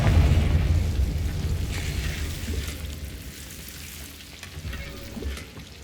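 A Confringo explosion spell bursts in the Hogwarts Legacy video game, a loud, rumbling blast at the start that rolls on and slowly fades into a softer, crackling tail.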